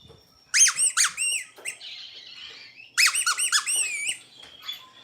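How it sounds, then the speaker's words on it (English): A small lamb chop squeaky dog toy squeaks in two quick bursts of several sharp, pitched squeals each, loud and close, with a soft rubbery wheeze between bursts and no talking. "He's got a little lamb chop squeaky toy."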